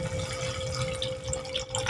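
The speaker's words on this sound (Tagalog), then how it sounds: "Lagyan ko lang siya ng kunting tubig." A little water poured into ground beef cooking in a pan, heard as a steady, moderately close wash of running liquid and sizzle with a faint tonal hum underneath, no talking.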